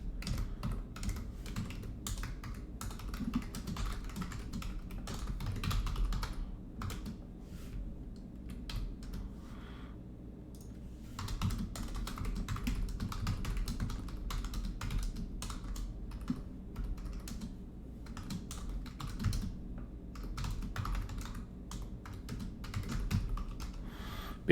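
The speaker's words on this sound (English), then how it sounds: "Where the hell am I typing?" Steady clatter of typing on a computer keyboard runs throughout, quick irregular keystrokes in bursts with brief pauses, fairly close and alone over a low background hum.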